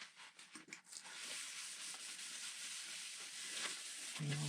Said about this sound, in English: Lots and lots of sanding.